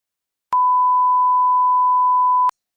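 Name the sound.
censor beep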